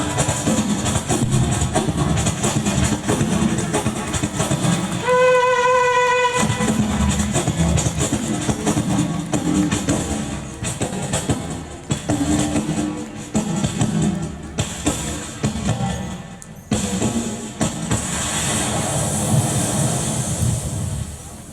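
A performer's voice imitates a train starting, crossing a railway bridge and slowing to a stop: a loud, continuous rumbling and clattering with a whistle-like tone partway through, over crowd noise.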